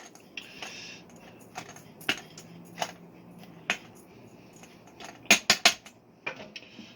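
A kitchen knife coarsely chopping a moist cheese on a board for a squash blossom tempura filling, irregular sharp taps and clicks, some in quick clusters, over faint room noise.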